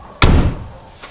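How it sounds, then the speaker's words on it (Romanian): A Dacia Logan car door slams shut once with a loud, close, solid thud that dies away quickly, and a faint tap follows. "am să fac testul de ușă, de închiderea ușii, să dăm diferența."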